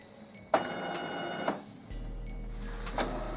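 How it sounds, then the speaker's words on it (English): An Epson Stylus Photo R340 printer charging ink after a cartridge change: mechanical clicks at regular intervals over a steady whirring motor, then a low continuous hum from the pump, close and moderately loud. "what it's doing is taking any ink that's in the cartridges and dragging it down to where it needs to be within the printer"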